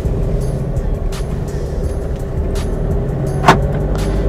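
A Mahindra TUV300 engine drones while the SUV drives along a village road, heard from inside the cabin as a close, steady low rumble with occasional light knocks and clicks.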